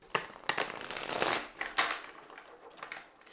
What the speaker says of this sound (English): Okay, one more shuffle, and then we'll get on with this.